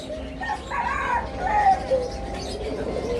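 Captive doves coo in soft, low, drawn-out calls at a bird seller's aviary, set against a quiet background hum.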